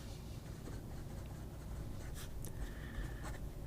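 A vintage 1970s–80s black and gold Montblanc 146 fountain pen with a medium nib scratches softly across paper in a steady, faint run of writing strokes, with a few brief sharper scrapes near the end.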